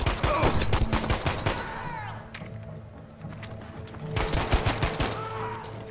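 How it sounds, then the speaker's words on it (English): Rapid bursts of M1A1 submachine gun fire in the Battlefield 5 campaign, loud, close and dense with overlapping shots, pausing briefly mid-clip before another volley of fast, sharp cracks. "This is why I love the M1A1 in this game. It just fires so quickly."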